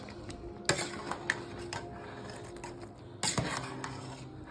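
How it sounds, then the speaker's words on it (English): A potato masher works cooked apples down in a pot for apple sauce, producing soft squelchy pressing and a few sharper clunks against the pot's bottom, close and irregular. "I'm gonna get out my potato masher, and I'm just gonna start mashing them like that"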